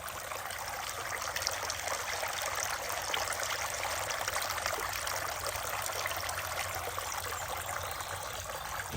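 A small decorative water fountain on a garden porch trickles and splashes steadily and continuously, close by and fairly quiet, with no talking.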